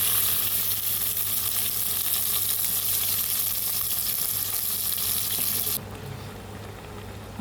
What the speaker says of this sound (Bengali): মাছ সয়াবিন একসাথে দিয়ে দেওয়া হয়েছে ঝোলের জন্য। এগুলো সিদ্ধ হচ্ছে